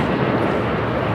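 Japan Airlines Boeing 787-9 Dreamliner taking off from LAX bound for Osaka, a steady broadband jet engine roar holding at constant loudness throughout, heard from a distance with no voices.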